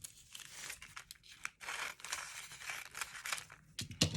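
Scissors snip and crunch steadily through fused applique fabric, cutting along a traced line in a quick, close series of cuts.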